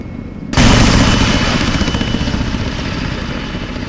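An aircraft in the video game Arma 3 bursts into a sudden, loud, broad roar of engine and rotor noise that holds steady, close and dense.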